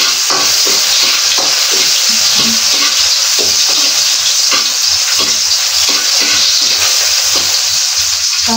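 Onions sautéing in a wok-style kawali, a loud, steady sizzle with repeated scraping stirs of a spatula running throughout, close and without any talking.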